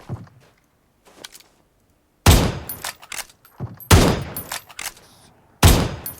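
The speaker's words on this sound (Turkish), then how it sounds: "Tepeden vuruyor" Gunfire in PUBG Mobile on the Miramar map, shot from a hilltop: a few faint early shots, then three loud, sharp bursts of rapid fire spaced about two seconds apart, each trailing off into echo.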